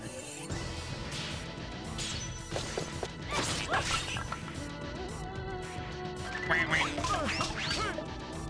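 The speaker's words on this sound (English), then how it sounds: "Ducks." Ducks quacking in the video game Shadow Hearts: Covenant, a series of nasal quacks scattered through a battle scene full of smashes, whacks and whooshes, with game music underneath.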